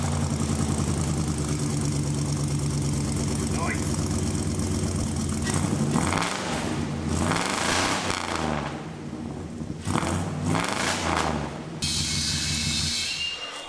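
A Chevrolet squarebody dually truck, left abandoned for years, runs loud and close with a steady low rumble whose tone shifts and surges partway through, with no talk over it.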